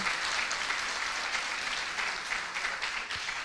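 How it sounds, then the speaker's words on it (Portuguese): A church congregation applauds together in a large hall, a continuous, even roar of many hands clapping with no voices over it. "Você vai aplaudir? Aplauda Jesus."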